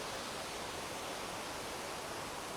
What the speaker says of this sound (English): this rushing tide of water